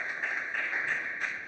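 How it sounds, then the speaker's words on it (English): Applause from a conference audience, a steady dense patter of many hands clapping together at moderate volume throughout, with no voices over it. "Now you can see the audience clapping you"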